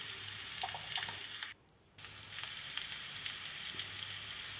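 Kochur loti frying with turmeric and spices in a pan, a faint steady sizzle and crackle with small pops, briefly cut off and then resuming, low and close.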